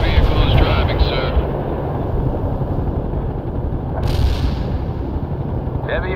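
Heavy artillery in the World in Conflict strategy game, with rumbling explosions and booming blasts over a dense, loud battlefield din as radio-style voices speak.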